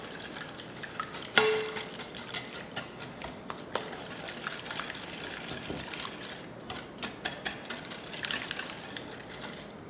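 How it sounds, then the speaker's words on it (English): A whisk works sugar into lemon juice in a bowl, giving soft gritty scraping strokes with faint taps and clicks, close and quiet throughout. "we're going to whisk this up"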